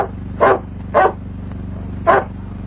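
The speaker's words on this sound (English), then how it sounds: "That's no wolf, it's a dog." A dog barks three times at night, loud and fairly close, with short separated barks over a steady low hum in an old 1938 film soundtrack.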